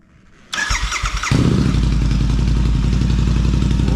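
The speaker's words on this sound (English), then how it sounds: "This is the S&S motorcycle." A Royal Enfield 650 motorcycle with an S&S exhaust starts up in a garage: starter clatter, a catch, then a loud, deep, steady idle rumble close by.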